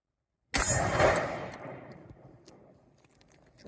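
A 5.56 green tip rifle round fired at 20 yards beside steel body armor, one sharp loud report with a metallic ring that decays slowly over a few seconds.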